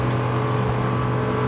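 An NX 290 Grand Style motorboat runs at full throttle, its engine giving a loud, steady, dense roar with a low droning hum and no break.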